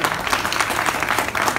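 Clapping from a concert audience for a singer at a 2018 winter show, a brief steady patter of many hands without pause.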